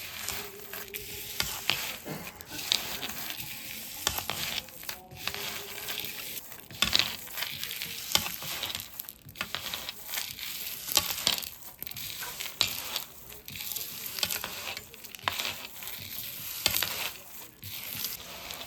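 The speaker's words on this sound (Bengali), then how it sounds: "এখন এর মধ্যে একটু সরষের তেল মিক্সড করে দেব। সুন্দর করে এগুলো মেখে নেব।" Ingredients being mixed by hand with mustard oil for Assamese maa karai, close rustling, squishing and scraping strokes in an irregular rhythm with brief pauses, moderately quiet and without voices.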